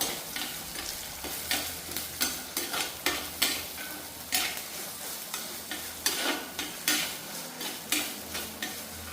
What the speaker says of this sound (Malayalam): ഇനി എല്ലാം കൂടെ നന്നായിട്ട് നമുക്കൊന്ന് വഴറ്റിയെടുക്കണം